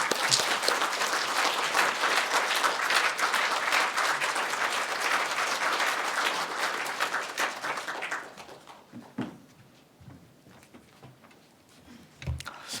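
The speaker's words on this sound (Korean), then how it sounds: "우리 박수로 환영하겠습니다" Church congregation applauding to welcome a guest pastor at a Sunday service: dense, full clapping for about eight seconds, then tapering to scattered claps and quiet room sound.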